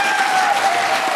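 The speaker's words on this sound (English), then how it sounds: "Round of applause" A live audience at a debate discussion show breaks into a short burst of dense clapping for the con side, steady and fairly loud.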